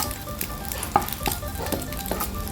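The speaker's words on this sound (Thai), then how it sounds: "ผัดเห็ดหอมกับไข่เข้าไปด้วยกันเลยนะคะ" Shiitake mushrooms and egg are stir-fried together in a hot pan for a glass noodle and napa cabbage dish, with a close, continuous sizzle and regular scraping and tapping of a spatula.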